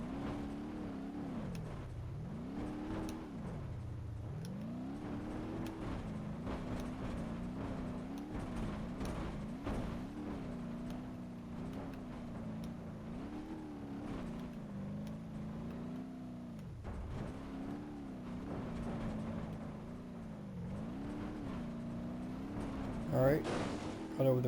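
A rally car engine in BeamNG.drive drones loudly and steadily, its pitch dipping and surging again and again as the throttle is lifted and reapplied, with a few sharp clunks near the end.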